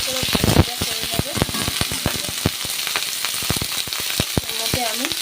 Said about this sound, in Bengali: লঙ্কাটা দিয়ে সুন্দর করে ভাজা করে নেব।